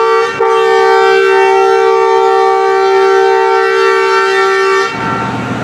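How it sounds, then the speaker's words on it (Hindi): A loud, sustained ZCU30 diesel locomotive whistle blares in one steady multi-tone blast for about five seconds at a railway station, then cuts off, leaving background noise. "ZCU20 और ZCU30 के विसल में बहुत फ़र्क है दोस्तों।"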